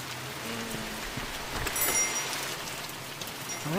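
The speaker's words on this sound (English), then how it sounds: "And it rains. Of course it rains." Rain falls steadily in the horror game The Mortuary Assistant at the start of a night shift, a soft continuous hiss of drops on a surface that swells slightly midway, with no talk.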